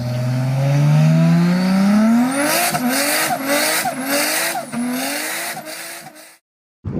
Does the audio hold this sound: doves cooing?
no